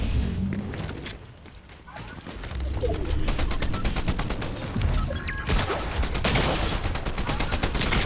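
Rapid gunfire in Fortnite Chapter 5 unreal ranked zero-build play, with dense automatic bursts rattling almost continuously, loud and close, and a player talking over the shooting.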